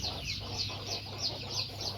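Farmyard chickens clucking in a steady, rhythmic series of short calls, fairly close, with a constant low background hum and no talking.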